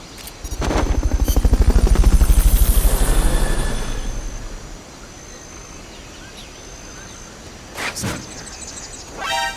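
A loud helicopter rotor chops steadily for several seconds in the video game Metal Gear Solid: Peace Walker, then fades away, leaving quieter game ambience with a couple of brief bursts near the end.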